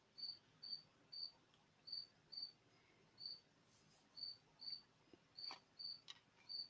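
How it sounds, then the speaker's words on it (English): A lone cricket chirps in short, evenly spaced bursts against quiet background hiss, fairly faint and with no one talking. "Still hearing crickets."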